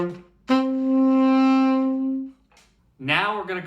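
A tenor saxophone plays a single long sustained note of the main riff from the original tune, close and full-toned and alone, followed by a short breathy phrase.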